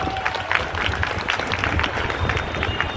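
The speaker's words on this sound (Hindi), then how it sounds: "एक बार आपके लिए जोरदार तालियां हम सभी बजा लें" An audience claps at a gathering, a moderate scattered patter of many hands that carries on evenly for a few seconds at middling distance.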